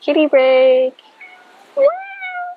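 A pet cat meows indoors, several drawn-out, close and fairly loud calls with a short pause between them.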